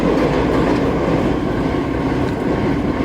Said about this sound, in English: That's the J train.